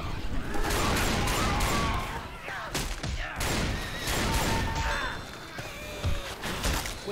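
Dense game gunfire in Left 4 Dead 2 during a zombie horde fight, with rapid overlapping shots, thuds and impacts filling the whole stretch, loud and close, with a player's voice faintly mixed in.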